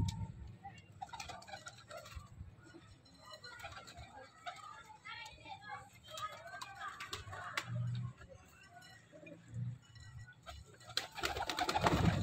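Pigeons coo softly around scattered grain at a breeder's loft in Punjab, with light clicks and fluttering nearby and a voice murmuring intermittently underneath.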